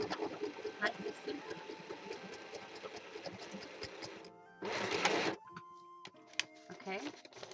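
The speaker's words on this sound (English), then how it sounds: "Get your machine back. And just sew it on." A sewing machine stitches a tag onto a junk journal page. Steady close mechanical whirring starts, cuts out briefly, then gives a louder buzzy burst before stopping, followed by a few clicks and short mechanical sounds.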